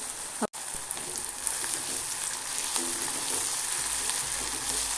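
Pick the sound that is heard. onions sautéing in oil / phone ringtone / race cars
onions sautéing in oil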